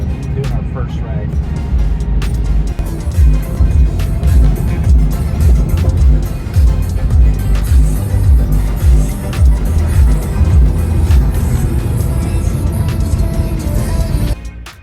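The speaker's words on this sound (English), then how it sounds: "right now, we're just kind of these initial thoughts as we're getting here onto the highway and doing our first ride" Tesla Cybertruck cruising on a highway, a steady loud low road and tire rumble with wind noise running throughout, with occasional thumps.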